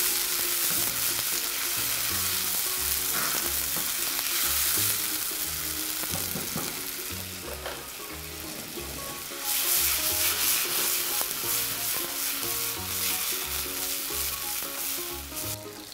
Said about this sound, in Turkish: domatesin sos kıvamına gelmesini bekleyecek ölçüde kavurmaya devam ediyorum